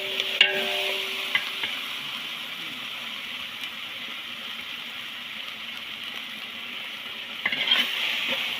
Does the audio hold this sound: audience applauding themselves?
no